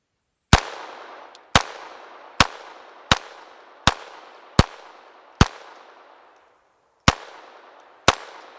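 Eight sharp pistol shots from a Duramatic, fired one at a time at a slow, slightly uneven pace, each loud crack close and followed by a short decaying echo with no talk.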